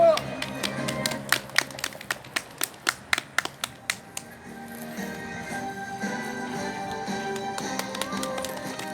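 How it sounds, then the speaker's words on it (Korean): Sparse, sharp claps ring out one by one at a residents' redevelopment rally outside Seongnam City Hall, distinct and evenly spaced for a few seconds, then fade into open outdoor ambience. "박수!"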